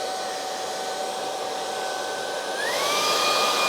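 A Hoover H FREE 500 Pets Energy cordless vacuum cleaner runs alone with a steady, close motor whine. Partway through, its pitch climbs and the sound grows louder and harsher.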